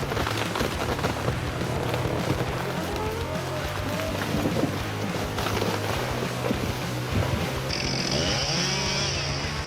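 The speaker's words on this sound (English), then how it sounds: "The chainsaw roared in the silent ancient forest, its sharp scream slicing through the still air." A chainsaw cuts into a thick tree trunk in a forest, its engine roaring loud and close without letup, with the pitch shifting under load and a higher whine near the end.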